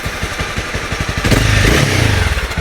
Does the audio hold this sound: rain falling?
no